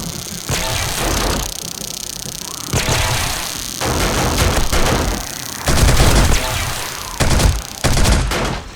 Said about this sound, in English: let's try out the turrets